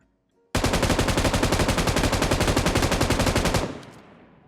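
M249 machine gun firing in a video game: one loud, rapid, unbroken burst of about three seconds after a short silence, ending abruptly with a brief fading echo.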